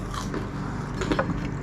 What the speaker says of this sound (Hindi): आप देख सकते हैं अंदर से बिल्कुल ज़बरदस्त नरम है, ऊपर से क्रंची है।